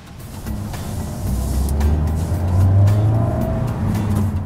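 Steady engine drone and road rumble from inside a moving Mazda CX-3, rising slightly in the middle, with no talking.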